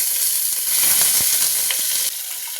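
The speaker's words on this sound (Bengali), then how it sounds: "গোটা গরম মশলাটা দিয়ে দেব এবার চিকেন আর সবজিটা একসঙ্গে দিয়ে দিলাম" Chicken and vegetables go into hot oil with whole garam masala and sizzle loudly in a pan, a bright, steady frying hiss with a few stirring knocks, softening slightly toward the end.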